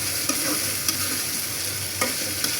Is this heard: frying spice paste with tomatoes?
yes